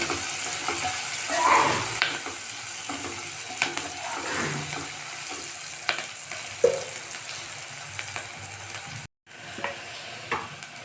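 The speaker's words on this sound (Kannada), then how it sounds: "ಅದಕ್ಕೇ ಕರ್ಬೇವಿನ ಸೊಪ್ಪನ್ನ ಹಾಕ್ತಾ ಇದ್ದೀನಿ ಇದು ಕೂಡ ಸ್ವಲ್ಪ ಫ್ರೈ ಆಗಲಿ" Curry leaves fry in a salted pan for a vegetable palya: a continuous close sizzle broken by scraping spatula strokes and metallic clinks, with one brief cutout near the end.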